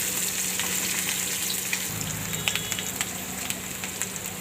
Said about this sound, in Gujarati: તો આને આપણે ઘડીક ફ્રાય થવા દઈશું